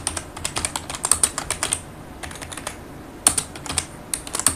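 Fast, close typing on a computer keyboard, crisp key clicks in irregular bursts with a short pause midway, no voices.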